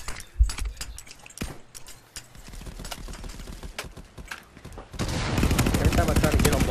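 Gunfire crackles in the Contractors VR video game, with bursts of rapid shots and scattered clicks and rattles. The firing builds into a dense, continuous volley near the end and is heard alone, without talk.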